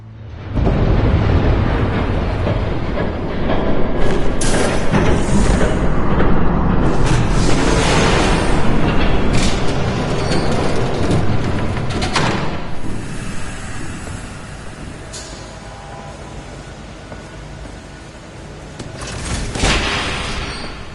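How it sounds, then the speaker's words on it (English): A train passes by in the Telltale Batman video game, a loud, sustained rumbling roar with clanking and slamming bursts that swells, eases off, then surges again near the end. "There's a train coming."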